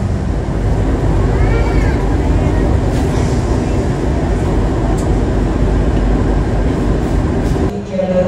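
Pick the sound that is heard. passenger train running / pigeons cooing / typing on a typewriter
passenger train running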